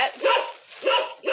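A recorded dog bark from a children's piano floor mat toy, two quick, loud, close woofs in succession, sounding slightly electronic.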